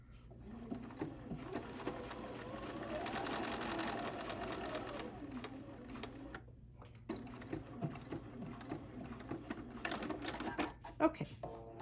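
A sewing machine stitches the top piece onto a fabric hexagon pincushion, running in steady bursts with brief pauses between them, close and clear, with no talking over it.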